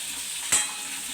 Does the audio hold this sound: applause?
no